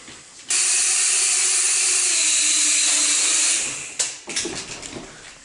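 An Eachine H8C toy quadcopter drone spins up with a high, steady whine that holds for about three seconds, then cuts off abruptly, followed by a short clatter and fading rattles.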